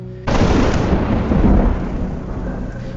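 A storm sound effect bursts in with a sudden, loud crack of thunder that rolls into a broad, sustained rumble blended with rushing, wind-like noise, close and without talk.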